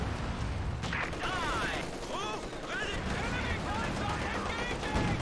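Gunfire from the real-time strategy game Company of Heroes 2 rattles steadily beneath a dense battle din, with bursts of shots and whistling shell sounds, all under continuous commentary.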